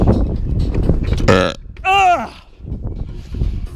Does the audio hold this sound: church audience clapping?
no